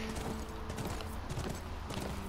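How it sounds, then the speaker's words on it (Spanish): A horse gallops in The Last of Us video game, quiet hoofbeats thudding in a quick, steady rhythm, with no talk over them. "ya tenía yo ganas también de montar caballito"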